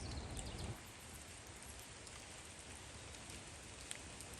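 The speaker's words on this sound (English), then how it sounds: "it's starting to pick up again with the rain" Steady rain falls outdoors on a morning with a light wind, a soft, even patter that continues throughout, with a slightly louder rumble in the first moments.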